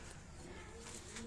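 Pigeons cooing on a Karachi rooftop, a soft low hum running steadily through the short stretch with faint background noise and no talk.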